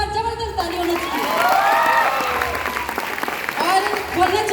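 Indoor audience applause at a company event, a burst of clapping that swells and holds under a loud amplified voice, with talk continuing over it.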